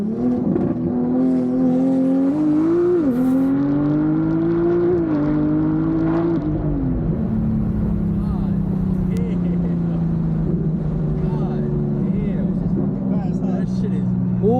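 A Mercedes-AMG GT63 engine idles and revs with a steady, loud, throaty drone, its pitch rising and falling through several blips in the first few seconds before settling back to a continuous rumble, with someone talking over it.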